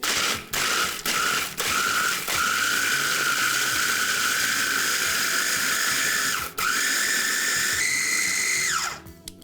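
Food processor grinding cookies into crumbs for a New York cheesecake base, a loud, close motor whine that runs steadily with brief stops and pitch shifts before winding down at the end.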